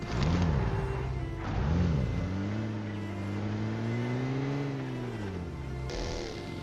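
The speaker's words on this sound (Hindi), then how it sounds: "ये गाड़ी थोड़ी स्किड कर रही थी तो हमने जो है चेंज कर ली" A car engine drives in the mobile battle-royale game PUBG Mobile, a loud, steady motor drone that rises and falls as it revs, with no talking.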